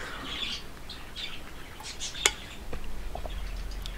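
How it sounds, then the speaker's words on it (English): Birds chirp and tweet in the background, several quick, bright calls spread across a few seconds, with one sharp squawk partway through and a low, steady hum underneath. "I hope you guys don't mind the birds"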